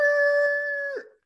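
A person mimics a rooster's crow with the voice, a single sustained, loud, nasal call lasting about a second that breaks off abruptly at the end, heard alone without other talk.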